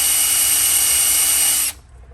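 A power drill runs steadily on a bolt of a Cummins NTC-365 Big Cam engine, a loud continuous high-pitched whine that stops abruptly near the end, with no talk.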